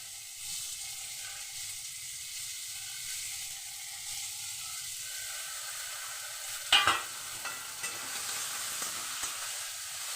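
Grated ginger sizzling in hot oil in a pan for an egg tadka, with a steady soft frying hiss throughout. Near the middle a sharp clatter marks the ginger going in or being stirred.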